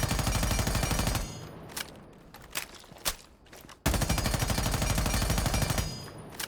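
Automatic weapon fire in Rainbow Six Siege, loud sustained bursts that fill the opening second, pause for a few scattered single shots, then resume as a long continuous stream of rapid rounds.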